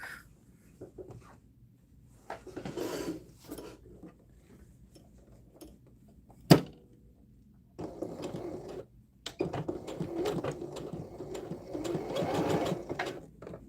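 A sewing machine stitches across fabric for a tote bag in two runs, a short burst and then a longer steady stretch of rapid mechanical whirring, with a sharp knock between them and no talking.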